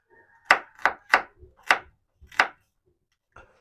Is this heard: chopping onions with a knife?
yes